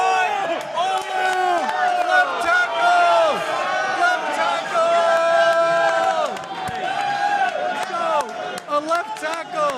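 A crowd at the NFL draft cheering and chanting in loud rhythmic bursts, with voices shouting over one another and rising and falling in waves.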